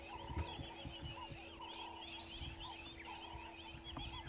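Southern ground hornbills call at sunrise, a juvenile among them, in low, deep booming notes repeated in a slow rhythm at moderate distance, with faint higher bird chatter in the background.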